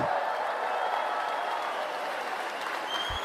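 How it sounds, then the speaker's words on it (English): A crowd at a Conservative political rally in Windsor, Ontario, breaks into steady, dense applause that fills the space for several seconds, with a few scattered voices mixed in. "Give her a round of applause."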